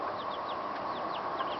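Chickens in a backyard garden make soft, repeated clucks and short calls over a steady background hum. The sound is moderately near and continuous, with no voices.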